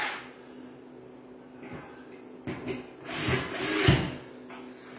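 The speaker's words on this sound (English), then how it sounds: "Does anyone else hate chuckless drills? They're gutless drills." A chuckless drill works into wood in irregular whirring and grinding bursts, loudest in two rising surges near the end, against a quiet workshop background.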